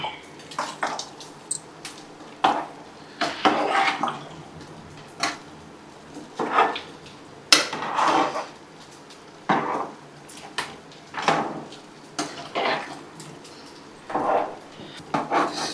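A thick fish curry masala is stirred slowly in a pot, with a spoon scraping and knocking against the sides in repeated rhythmic strokes, close and moderately loud.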